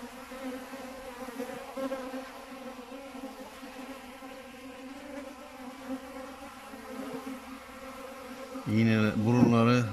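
Steady, tonal humming of many honeybees up close as they draw syrup from a plastic feeder bag, continuous and even, with a brief louder burst near the end.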